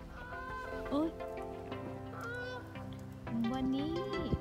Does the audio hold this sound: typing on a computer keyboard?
no